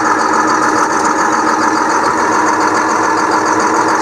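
An engine idles in neutral on a vehicle at a hill climb, a steady loud close rumble that holds without change and with no talk over it.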